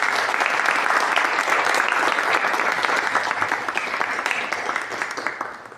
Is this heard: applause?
yes